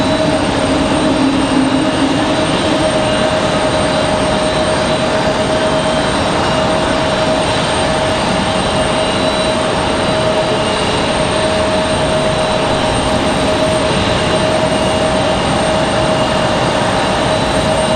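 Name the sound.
Icelandair jet taking off from runway at RDU airport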